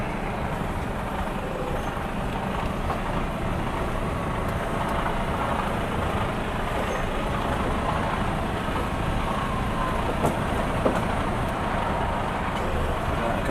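A vehicle towing a trailer manoeuvres close past a fence onto grass, its engine a steady low rumble throughout with faint knocks and rattles near the end.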